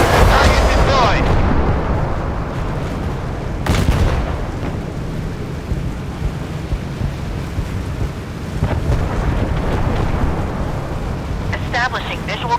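Warship artillery in the naval combat game Force of Warships: loud, rumbling cannon booms at the start, again partway through and near the end, over a constant roar of sea and engine noise, with a voice at times.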